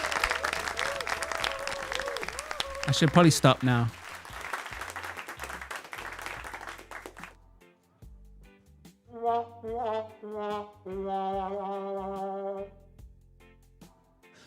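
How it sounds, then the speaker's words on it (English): An applause sound effect fired from a button during a general knowledge quiz show plays as a burst of clapping and crowd noise at the start, then stops abruptly. A voice follows alone, speaking quietly. "I'm just going to keep pressing this button, making the audience clap."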